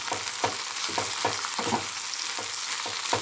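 Ginger and garlic fry with okra in a pan, giving a steady loud sizzle broken by a regular series of stirring scrapes, with no talk.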